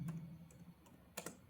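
Quiet computer keyboard typing while entering a comment in a Delta PLC program, a few soft scattered keystrokes ending in two sharper clicks close together.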